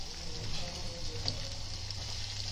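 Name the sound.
turmeric added to sizzling soya and potato sabzi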